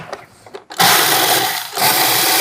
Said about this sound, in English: When you're grinding almonds or any kind of nuts, make sure that your blade of your food processor is sharp